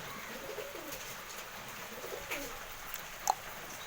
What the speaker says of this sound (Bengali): এই কবুতর ছাটা দেখতে ভালো হবে অনেকটা।